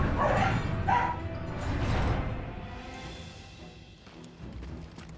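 Several loud, close dog barks and yips come in quick bursts at the start, then fade into softer whimpering noises and quieter yaps.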